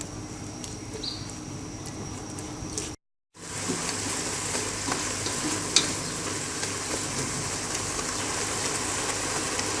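Oil-free bitter gourd frying in a saucepan on a stove, a continuous soft sizzle with occasional scraping of stirring, broken by a brief silent cut before the sizzling resumes.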